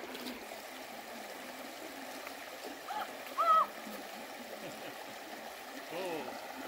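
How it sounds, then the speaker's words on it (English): A creek flowing at a washed-out bridge crossing on the Appalachian Trail between Marion and Daleville, Virginia, a steady faint trickle and rush with a brief splash or two, no talk over it. "you're going to have to cross a creek or two"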